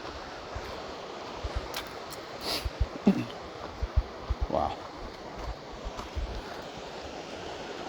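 Rushing water of the Middle Fork of the Feather River on the Pacific Crest Trail, a steady broad roar filling the scene, with brief exclamations and scattered footstep-like knocks over the top.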